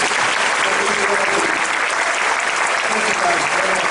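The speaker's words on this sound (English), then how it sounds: "A round of applause for those people." A large crowd at a live wildlife show at SeaWorld Orlando gives veterans a sustained round of applause, loud, dense and steady, with faint voices mixed in.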